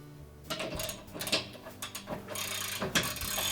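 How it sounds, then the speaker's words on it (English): A ratchet turns a 17mm socket to loosen the rotor bolt on an LG washer, giving quiet, close clicking and metallic scraping strokes in an irregular rhythm. "if you can hold that rotor with one hand and turn the ratchet"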